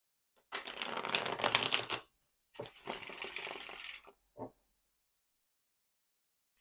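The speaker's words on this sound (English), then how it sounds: "I'm going to shuffle my clarification deck and we'll get started" A clarification deck of tarot-style cards being shuffled by hand, heard as two close, crisp riffling bursts of about one and a half seconds each, then a brief tap, with no voices.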